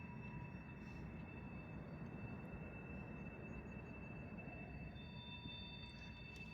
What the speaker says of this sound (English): that's a long train.